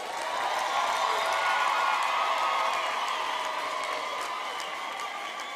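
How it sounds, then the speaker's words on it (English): A graduation ceremony audience at the University of Namibia in Windhoek gives a sustained round of applause, a dense wash of many hands clapping that holds steady, then eases slightly toward the end. "let's all give our parents and graduates a round of applause"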